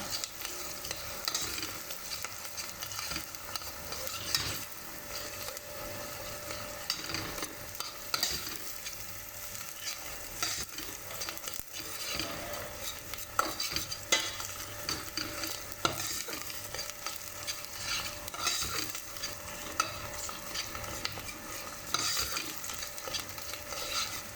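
Tomato paste is stirred and fried into sautéed onions for a chickpea stew, giving a continuous dense sizzle with repeated scraping and stirring noises. It is moderately loud, and no one talks.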